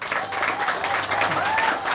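Wedding guests break into brief applause for the newly married couple as they are introduced, dense clapping with a few whistles and cheers lasting about two seconds.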